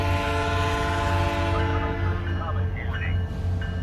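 A loud, steady rumble of a SunRail train passing Poinciana station with a sustained horn-like tone, while people talk over it and an automated voice warns of another train coming.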